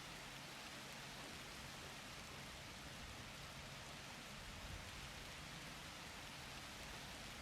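Steady rain from a rain cloud pouring over a lake in the video game The Universim, a continuous even hiss of falling water with no breaks, no voices on top.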